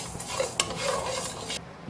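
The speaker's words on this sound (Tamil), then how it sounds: "அரிசியும் நல்லா பக்குவமாக வறுத்து எடுக்கணும்." Raw rice dry-roasted in a pan for sambar powder, stirred with a spoon: close scraping and rustling grains with a faint sizzle and one sharp metallic tap, no talking.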